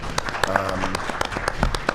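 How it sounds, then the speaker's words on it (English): Audience applause for student leaders at a climate justice gathering: a scattering of sharp, individual claps rising over a murmur of voices, with talk continuing underneath. "can we give a round of applause for them?"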